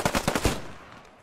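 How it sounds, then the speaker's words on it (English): Gunfire in the WW2 shooter Post Scriptum: a short, loud burst of about five rapid automatic shots, close by, with a brief fading echo afterward. "Where is that guy shooting from?"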